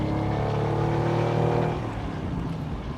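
A 1972 Ferrari 246 GT Dino coupe's engine pulls hard while driving through suburban streets, a loud, rich, steady drone that eases off and drops in pitch near the end, with no voices.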